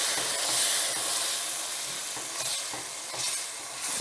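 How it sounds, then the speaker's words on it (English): Cajun shrimp and andouille sausage pasta sizzles and hisses steadily in a hot pan, with occasional scraping stirs mixed in, loud and close. "You just want to wait for that sizzling to come down a little bit."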